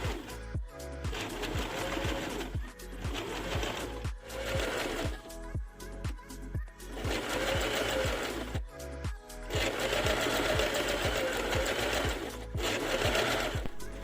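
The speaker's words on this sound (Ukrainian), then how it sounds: "І прокладаємо строчку одноріжковою лапкою на відстані 1 см від ткані." Sewing machine running steadily with a zipper foot, stitching a seam beside a heavy tractor-style zipper, with short pauses and restarts between bursts of rapid mechanical clatter.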